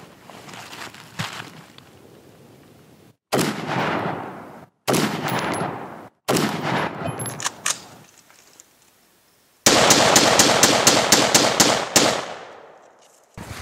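A Tavor TAR-21 rifle fires outdoors at a spring range in southern Alberta, with sharp reports in separated bursts and a final rapid string of closely spaced shots, loud and close with no talk.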